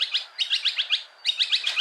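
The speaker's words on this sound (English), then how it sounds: "Got birds chirping." Small birds chirp and tweet in rapid repeated bursts at a campground in the morning, clear and fairly close, with a short pause midway and no talking.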